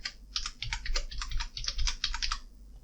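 Rapid, steady keystrokes on a computer keyboard while a password is typed, a close, clicking run of keys that pauses briefly halfway and then resumes.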